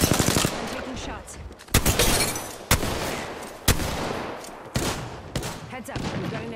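Gunfire in the game Apex Legends: several loud sharp shots and short bursts ring out at irregular intervals over busy, dense game noise, with a voice speaking in between.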